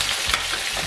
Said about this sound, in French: On va ajouter tout de suite les champignons.